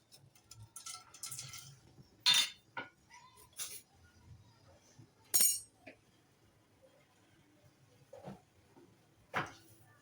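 Whole spices dropped into hot vegetable ghee and oil in a pot for chicken biryani, a few scattered clinks and short sizzling bursts, quiet and close with faint background noise between them.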